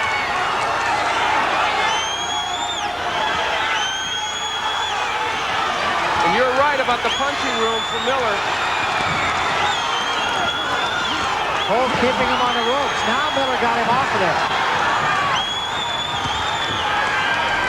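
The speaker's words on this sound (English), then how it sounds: "This New Jersey crowd exhorting Cole on, and he's going to need it." A New Jersey boxing crowd cheers and roars steadily through a bout, loud and continuous, under ongoing commentary from a broadcaster.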